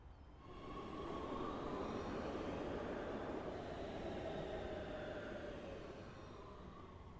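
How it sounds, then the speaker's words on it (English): A subway train ride in the video game Big Ambitions gives a steady rumbling roar of rail cars that swells in and holds, with no talk. "we are going to actually take the subway this time up to the Garment District East Station"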